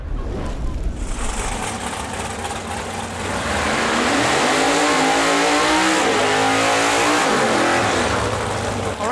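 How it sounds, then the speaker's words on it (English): Drag racing cars roar through burnouts at Lapeer International Dragway, a loud sustained engine blare that swells and holds steady after a brief dip, filling the whole stretch. "The burnouts are done."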